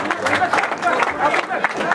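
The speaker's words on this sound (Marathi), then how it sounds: "जोरदार टाळ्या वाजवायच्या." An audience claps at a sailboat race prize ceremony in Agrav village, with a dense burst of applause from a crowd and a voice speaking over it.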